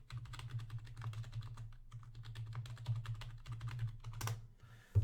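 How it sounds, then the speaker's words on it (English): Rapid, quiet keystrokes on a computer keyboard while someone logs into a trading account, an uneven patter of clicks with a faint low hum beneath and a slightly louder tap at the end. "You can hear it typing probably."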